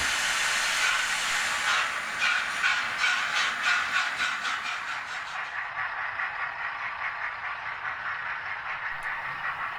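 Model train locomotive 101 runs around a layout with a soft, rhythmic steam-like chuffing hiss that pulses steadily and fades slightly as it moves away, fairly quiet overall.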